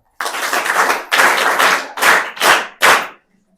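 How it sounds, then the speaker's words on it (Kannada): A school children's story-reading event audience claps for the student story writers, several bursts of close, loud applause separated by short pauses before fading out. "ಅವರೆಲ್ಲ ಕತೆಗಾರರು ಅವರಿಗೆಲ್ಲ ಒಂದು ದೊಡ್ಡ ಚಪ್ಪಾಳೆ"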